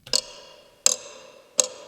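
Percussion loop from a mechanical-themed Digitakt sample pack, with three sharp metallic hits about 0.75 seconds apart, each ringing briefly with a clock-like tick, close and clean with no voices.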